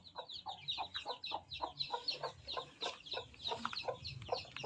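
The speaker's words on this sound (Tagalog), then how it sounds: "May bago na namang sisiyo." Newly hatched chicks peep in quick, high bursts beside a clucking hen, all faint and close together in a steady chatter.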